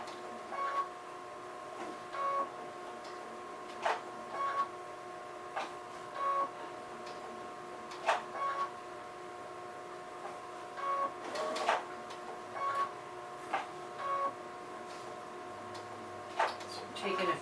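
Sewing machine with a candlewicking foot stitching chenille yarn, slow separate bursts of stitching and clicking repeating every second or so, close and moderate, with faint background hiss.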